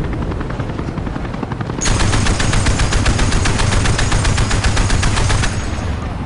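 Sustained rapid machine gun fire in the video game Battlefield Play4Free, loud and continuous over a constant engine-like roar, the bursts carrying on for several seconds without talk.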